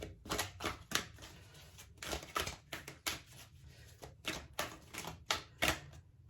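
Tarot cards shuffled and handled at close range, a rapid run of crisp riffling and slapping bursts in uneven rhythm, fairly quiet with no talk.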